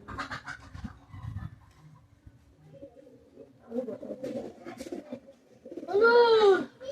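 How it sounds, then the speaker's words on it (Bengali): Pakistani high flyer pigeons, a pair of females, give soft murmuring sounds nearby, ending in a clear, louder rolling coo near the close. "দুটোটা মাদি কবুতর।"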